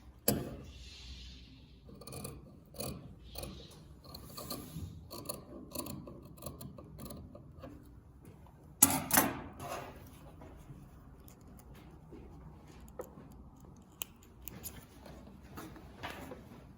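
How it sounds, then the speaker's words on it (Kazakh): Scissors snip away excess fabric from a blouse facing, giving a series of close, crisp cuts and small rustles, with a louder handling clatter midway and quiet gaps between. "Енді мына артығын қырып тастаймыз."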